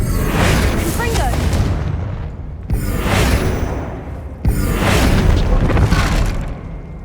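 Confringo fire spell explosions in the video game Hogwarts Legacy, three loud booming blasts in succession, each with a rumbling decay, close and dense.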